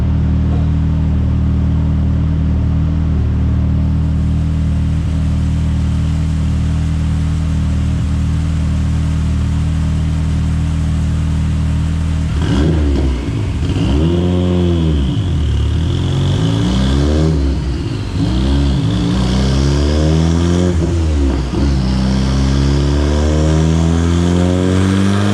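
A Mitsubishi Evo 9 with a built 2.4-litre turbocharged engine idles with a deep steady drone, then revs hard repeatedly, the pitch sweeping up and falling back in loud rising and falling bursts.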